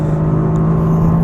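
A Mercedes AMG GTR engine drops a gear on the Nürburgring Nordschleife, a loud, close, steady engine drone with a strong low tone through the whole short moment.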